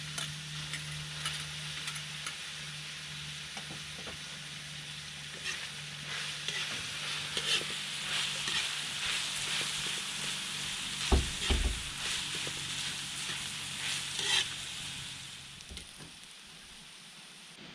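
Fresh vegetables and string beans stir-fry in a pan for pansit: a steady close sizzle with repeated scraping and tossing strokes, growing busier midway and then easing off.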